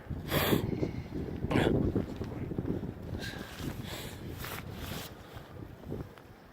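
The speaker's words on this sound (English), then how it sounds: "Wind starting to pick up a little bit there." Wind gusting and rising outdoors beside a lake in bush country, a steady broadband rush with stronger swells near the start, buffeting the microphone.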